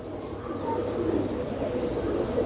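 Tonk high flyer pigeons coo in soft, low repeated calls amid a murmur of background noise and faint chirps, close by and not loud.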